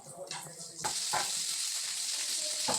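Loud, dense sizzling of chilies frying in oil, close and continuous after a brief sharp start, with light stirring clatter.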